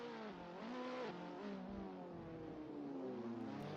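Race cars at a Race of Champions event accelerate off the start line, engine pitches climbing and shifting in layered whines, fairly faint and distant, with no talking.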